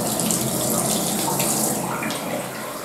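Steady, loud water runs from a sink tap in a hospital scrub room during a surgical hand scrub, a continuous splashing rush with no talking.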